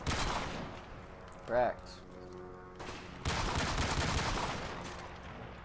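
Gunfire in the video game Call of Duty: Modern Warfare, heard as sustained crackling bursts of rapid shots before and after a short pause, with a brief voice speaking over the action.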